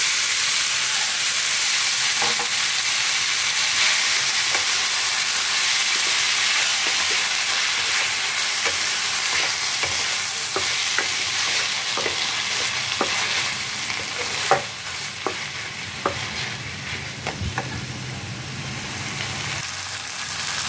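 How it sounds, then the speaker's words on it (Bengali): Hot oil tempering poured into a dish, giving a steady, loud sizzle throughout with scattered crackles and pops growing sharper toward the end. "তেলটা গরম হয়ে গেছে, এখন আমি এটা ঢেলে দিলাম।"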